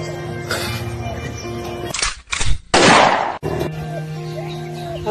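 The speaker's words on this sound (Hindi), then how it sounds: "तू अखी मुंबई में घुमा घुमा कर गोलियां चला रहा था" Loud gunfire from a handheld gun in a comedy skit, a couple of sharp bursts in the middle of the clip cutting through background music, with no talk over them.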